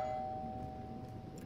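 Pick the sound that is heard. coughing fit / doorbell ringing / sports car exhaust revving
doorbell ringing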